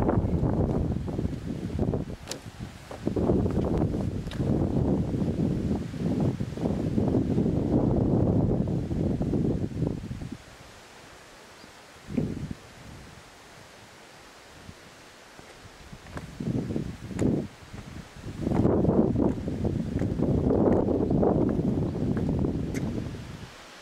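Wind gusts over a suspension bridge in the Nera Gorge in the Anina Mountains of Banat, with strong buffeting on the microphone that drops to a lull before rising again.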